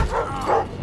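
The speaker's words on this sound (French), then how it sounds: "Oh non, le chien." A dog in the Thief video game gives two quick, close barks within a second, heard over a low game background.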